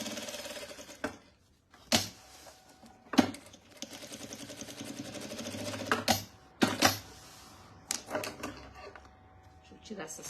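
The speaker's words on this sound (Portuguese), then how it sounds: "Vamos lá para a máquina. Eu vou fazer uma costura." A domestic sewing machine stitches a zigzag seam on a fabric bread basket. Its runs of rapid mechanical chatter are broken by sharp knocks and handling noises, and a voice speaks at times around them.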